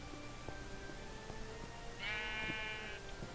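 A single drawn-out sheep bleat in a video game dockyard rises partway through, about a second long, over a quiet humming ambience with faint ticks.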